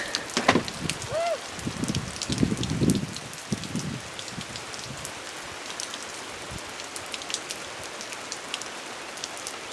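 Rain patters steadily on outdoor surfaces during a backyard Easter egg hunt, with dense close drops. Children's voices and short bumps come through early on, then the rain goes on alone.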